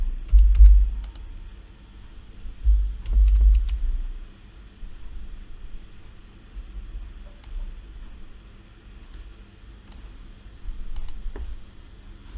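Sparse clicks of a computer keyboard being typed on, a short word entered in scattered taps over a low steady hum, fairly close and quiet.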